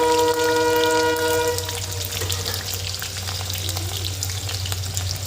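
Onions for mutton curry fry loudly in hot oil, with a close, steady sizzle and some stirring. A train horn sounds from outside during the first part and then fades.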